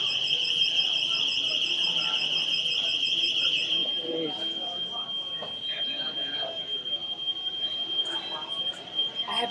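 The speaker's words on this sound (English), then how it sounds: "An alarm just like went off." Inside an Apple Store, a high-pitched electronic alarm shrills steadily and loudly, its tone thinning partway through, while people talk and move around in the background.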